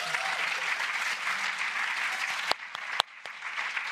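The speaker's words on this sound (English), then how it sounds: "I think we just need to give a round of applause to Chantelle" Audience applause for Chantelle at a British Library event, a full steady round of clapping that thins out toward the end into a few scattered, sharp individual claps.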